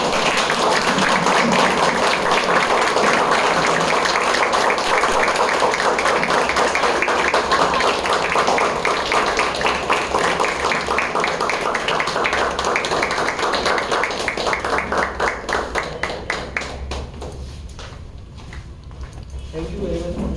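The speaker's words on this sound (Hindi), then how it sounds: "तो एक बार जोरदार ताली।" Live audience applause at a presentation event, a dense, loud, sustained clapping that fills most of the clip before thinning out near the end.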